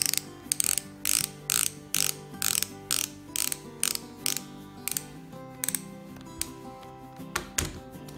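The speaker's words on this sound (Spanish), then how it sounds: "Cogemos uno de los pequeños tornillos y con un destornillador de mano" Hand screwdriver turning a small screw into a cabinet door, a series of regular ratcheting clicks in short bursts roughly every half second, close and fairly quiet, alone without talk.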